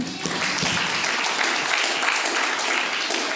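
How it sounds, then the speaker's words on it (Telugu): A church congregation claps loudly and steadily through a Sunday sermon, a dense sustained wash of many hands close by. "గట్టిగా చప్పట్లు కొడదాం ఒకసారి"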